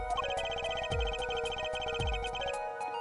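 A phone in the Apollo Justice: Ace Attorney video game rings with repeated electronic trilling bursts in a steady pulsing rhythm, loud and clear with no voices over it.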